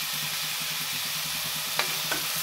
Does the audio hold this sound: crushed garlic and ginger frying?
yes